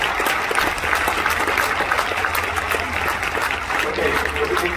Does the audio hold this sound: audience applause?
yes